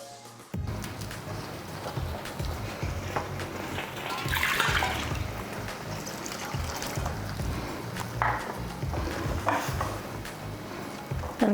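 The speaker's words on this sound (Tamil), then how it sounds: "இதில் கொஞ்சமாக வெது வெதுன்னு இருக்க தண்ணி கொஞ்சம் சேர்த்துக்கலாம்" Lukewarm water poured into a pan of spinach kootu cooking with lentils, then stirred in: a steady watery splashing and sloshing that runs throughout, with no talk.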